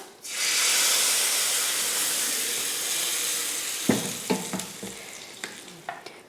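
Hot oil tempered with mustard seeds, asafoetida and curry leaves, poured into peanut chutney: a sudden loud sizzle that slowly fades, followed by several sharp crackles and pops near the end.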